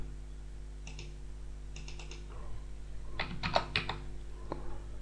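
Sparse computer mouse clicks while working in Catia V5 CAD software come as single and paired taps in a quiet room over a steady low electrical hum, close but faint.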